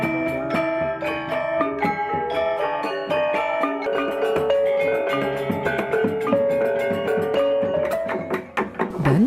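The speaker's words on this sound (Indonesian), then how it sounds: "suara gamelan atau gong" A Balinese gamelan and gongs play at a temple ceremony at Pura Puseh and Bale Agung in Sarimertha village, with dense ringing metallic strikes layered in a continuous rhythmic pattern, fairly close and full.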